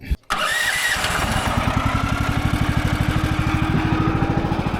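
A sawmill engine cranks with a brief sputter, then catches and settles into a steady, rapid chugging idle, loud and close.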